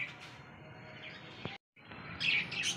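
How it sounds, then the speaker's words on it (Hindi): Parrots chirp and tweet in short bright calls close by, over a low background hum, with a brief cut of silence partway through. "ये देखते माशाल्लाह हमारे सारे तोते"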